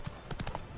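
Hooves of the horse Roach clip-clop in quick rhythmic beats as she gallops in the video game The Witcher 3, a brief, fairly quiet burst of pounding steps.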